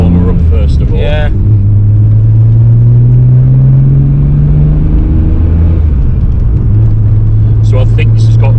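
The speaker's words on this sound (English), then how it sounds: "I'll just warm her up first of all." Nissan Skyline GTR R32 engine idling as it warms up, a steady loud low rumble with a slight rise in pitch partway through, with brief voices at the start and end.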